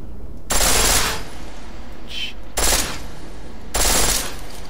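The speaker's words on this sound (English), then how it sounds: "Why would you need a pistol that fires that fast?" A pistol fires on full auto in the video game Deus Ex Mankind Divided. It lets off three loud, rapid bursts, each lasting about half a second, with short pauses between them and a faint click in one gap.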